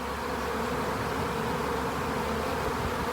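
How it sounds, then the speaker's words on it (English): Honeybees fly around a hive after being moved into a new box, a continuous, dense buzzing drone at close range, steady and unbroken throughout. "you can see on this hive all the flying bees"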